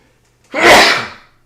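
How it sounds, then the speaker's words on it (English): A single loud, explosive sneeze bursts out close by after a moment of silence, then trails off quickly. "I'm freaking sneezed out my brains there"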